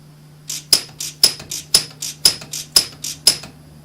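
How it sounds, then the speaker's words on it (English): Orion pulse welder firing rapid welds, about two per second, in a steady series of eight sharp snapping pulses with a constant low electrical hum beneath, close and alone with no talk. "just make a couple welds"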